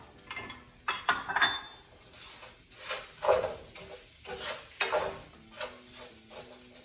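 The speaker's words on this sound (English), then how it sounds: "You can hear it start to sizzle a little bit now." Onions and mushrooms sizzle softly in a pan while a utensil stirs and clinks against it in irregular bursts, with gentle scraping between.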